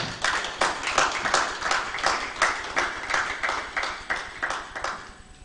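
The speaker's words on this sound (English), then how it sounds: "I'd like to ask another round of applause for our" Audience applause at the launch of the Africa Protected Areas Congress, a steady run of hand clapping with a rhythmic, pulsing feel, fairly close and moderately loud throughout.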